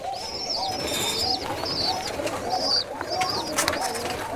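Young Rajshahi Giribaj pigeons coo in low murmurs. Sharper repeated chirps cut through, and a busy loft hubbub fills the background.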